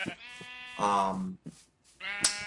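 Minecraft sheep bleat close by, several wavering, nasal baa calls with short pauses between them, clear against a quiet background.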